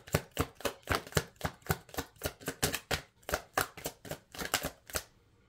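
A deck of cards is riffled and shuffled in a quick, steady rhythm of about twenty crisp, close snapping bursts, with no voice over them.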